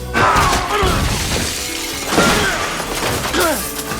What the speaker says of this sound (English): Smash him out through the window.